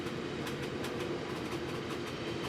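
A locomotive rolls steadily along rails with a constant rumbling drone and rhythmic clicking wheel beats, an even, continuous sound with no voices.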